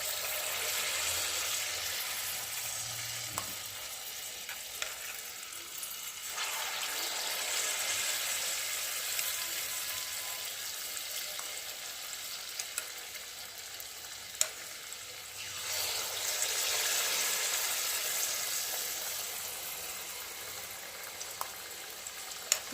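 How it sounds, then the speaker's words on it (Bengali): Dudh gokul pithe dumplings deep-fry in oil with a steady, bubbling sizzle that swells and eases in waves, a few faint clicks of utensils, no voices. "বাকিগুলোকে আমি এইভাবে ভেজে নিচ্ছি"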